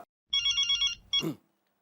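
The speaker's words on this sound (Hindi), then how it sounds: "ये देखो जेठालाल का फोन भी आ गया मेरे पास, पता ही था।" A telephone rings in a quick electronic trill, one burst followed by the start of a second, with a brief rustle or voice at the end.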